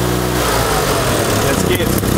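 Engine of a 1974 Fiat 500 classic car running roughly up close, a loud steady drone that falters and stutters near the end, with people talking over it.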